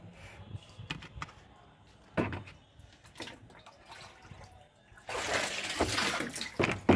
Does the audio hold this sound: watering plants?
yes